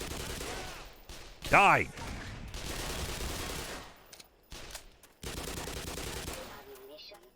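Recoiling automatic gun in Half-Life Black Mesa firing in short bursts, loud and close, with a shouted voice and spoken reactions between the volleys.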